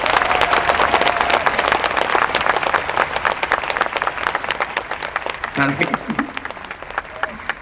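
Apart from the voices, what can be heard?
audience applause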